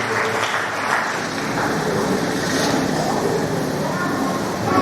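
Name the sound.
congregation applauding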